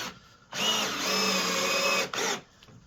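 A power drill drives a screw through a wooden dance floor panel into the beam underneath, whining steadily for about a second and a half, stopping briefly, then giving a short final burst.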